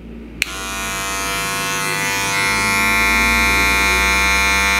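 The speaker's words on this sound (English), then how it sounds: "I'm going to use my magic clip to start buffing this out." A Magic Clip cordless hair clipper buffing out a skin fade switches on with a click and then holds a loud, steady motor buzz. The buzz stays close and continuous throughout, with no speech.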